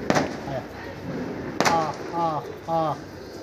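Pigeons arrive at a rooftop loft during a flying practice, with two sharp bursts of wing clatter as they land, followed by a few short, rising harmonic calls close by.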